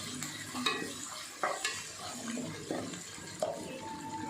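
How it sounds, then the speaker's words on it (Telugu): Spatula stirring and scraping through turmeric-spiced masala frying in a pan for Kurnool-style spicy chicken gravy, with a low sizzle and irregular close scrapes and knocks. "పచ్చి వాసన పోయే వరకు ఫ్రై చేసుకోవాలి."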